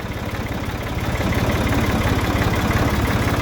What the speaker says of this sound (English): And that there is a running tractor.